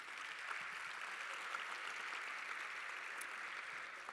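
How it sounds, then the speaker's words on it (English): A school awards assembly crowd claps for graduating high school seniors, an even, sustained patter of many hands heard from a distance and fairly soft throughout. "So let's give them all a round of applause"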